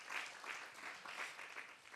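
A church congregation claps in encouragement for its outgoing and newly elected leaders, a faint, steady patter of many hands with a few louder swells, heard from a distance.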